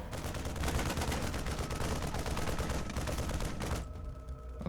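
StarCraft 2 combat as a Photon Cannon kills a Marine: a dense, continuous barrage of rapid gunfire and blasts that stays loud throughout, with a faint tonal game sound near the end and no voices.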